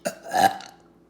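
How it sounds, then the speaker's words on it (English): A single loud, drawn-out belch close to the microphone, rumbling for about half a second before trailing off. "he just let out a big belch"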